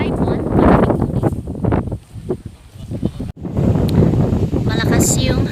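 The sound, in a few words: strong wind at a reservoir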